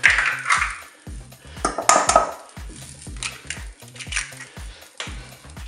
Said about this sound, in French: Là, on va casser les œufs.